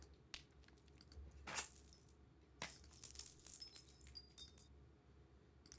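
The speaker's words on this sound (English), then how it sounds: "glass debris" Glass debris for horror sound design tinkles and clinks in scattered bursts, with sharp crystalline chimes and settling shards over a quiet low hum.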